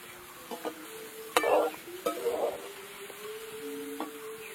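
Homemade potato chips fry in oil over medium heat, a soft steady sizzle broken by a few clattering stirs and scrapes as the slices are turned, close but fairly quiet.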